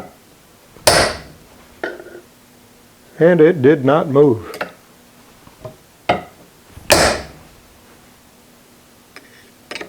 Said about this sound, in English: So I got a bigger hammer.